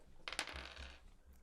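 Dice rolled for a tabletop role-playing game check, a quick clatter of small dice tumbling and rattling on a hard surface for about a second, faint and close.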